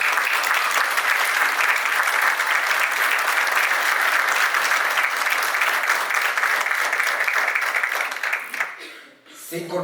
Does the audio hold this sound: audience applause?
yes